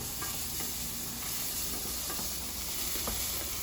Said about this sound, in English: Butternut squash is cooking nicely